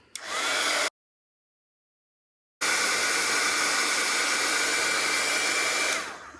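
Heat tool blowing on a paper page, a loud steady hot-air whoosh that cuts out for a couple of seconds and then runs on evenly before fading, with no talking.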